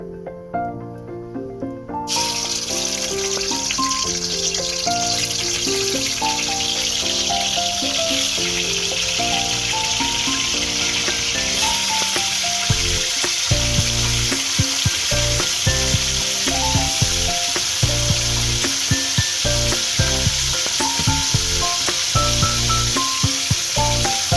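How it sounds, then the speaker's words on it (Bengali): Chicken meat coated in salt and turmeric fries in a pan with a loud, constant sizzle and crackle, close up, joined by rhythmic scraping and stirring throughout. "যেরকম মাছ ভাজে সেভাবে মাংসটাকে ভাজতে হবে।"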